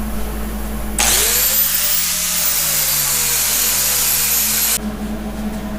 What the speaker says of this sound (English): The next step is to wire wheel everything.